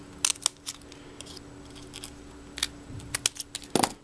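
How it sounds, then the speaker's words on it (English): Scissors snip paper pieces from a handmade embossed tea bag flower, a series of short crisp cuts and crunches at close range, spaced irregularly over a low background hum. "So just snip that off."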